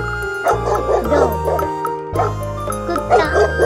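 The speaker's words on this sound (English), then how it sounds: "Dog." A dog barks and yips in several short bursts over steady background music, close and fairly loud.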